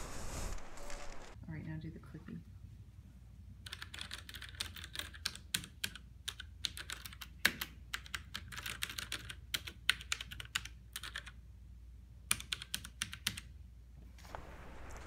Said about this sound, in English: The Cherry MX Brown switches have a soft, tactile bump about halfway through the key press.